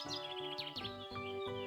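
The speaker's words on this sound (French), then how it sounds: "C'est le chant d'un rouge-gorge." A European robin sings a short phrase of high whistled and trilled notes, fairly faint, set in a deciduous woodland of oak, ash, beech and birch.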